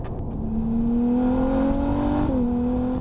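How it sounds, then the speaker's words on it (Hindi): Ferrari 296 GTB with a 120-degree V6 hybrid engine, its exhaust note a loud, steady droning hum that climbs gradually in pitch and then dips as the revs ease, close and continuous with no talk. "और एग्जॉस्ट नोट की बात करूं तो 6 सिलेंडर यूनिट है"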